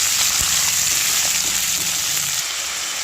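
Vegetables sautéing in a hot pan for a vegetable curry, giving a loud, steady, close sizzle and crackle that carries on unbroken with no voices over it.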